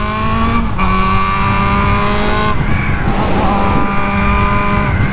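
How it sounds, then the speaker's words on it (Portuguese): Nighttime street in São Paulo with a car approaching, heard over a nearby motorcycle engine whose steady tonal whine shifts pitch between gear changes, loud and close throughout. "Ali não dá, ó, tá vindo o carro, ó"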